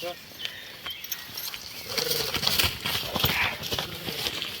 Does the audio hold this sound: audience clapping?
no